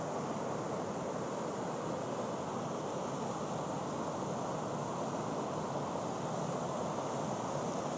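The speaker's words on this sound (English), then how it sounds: "Can you hear the sound of the water?" Water washing against a shore outdoors in nature, a dense, continuous broadband rush with steady level and no distinct breaks, close and loud, with no voices.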